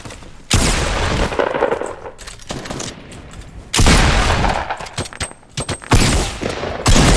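Loud automatic gunfire in Fortnite Battle Royale, arriving in long rapid bursts with short gaps between them, close and harsh.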